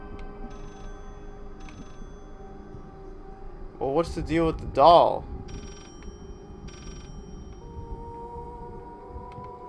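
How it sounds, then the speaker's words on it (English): Telephone ringing in the horror video game Layers of Fear, a short burst of warbling rings around the middle of the clip over a low ambient drone, with someone talking before and after. "what's the deal with the phone ringing?"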